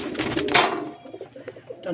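Pigeons coo softly nearby, low throaty calls repeating over light background rustle.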